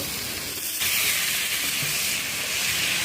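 Vegetables (potato, carrot and peas) are tipped into hot oil fried with whole cumin and spices and burst into a loud, steady sizzle that jumps up suddenly and then hisses on close by without a break.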